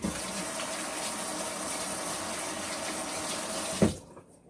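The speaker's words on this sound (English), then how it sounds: "All right, wash my hands." Hands washed under a running kitchen tap, a steady close splashing stream of water into a sink that cuts off abruptly near the end with a final knock.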